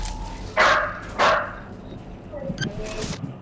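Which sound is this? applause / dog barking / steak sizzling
dog barking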